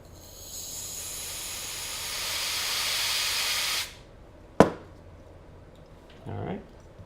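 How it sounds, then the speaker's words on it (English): Near, steady hiss of an aerosol can spraying onto a drone's flight controller for about four seconds, then stopping, followed by a sharp click and a brief softer hiss. "Let me go get an aerosol can."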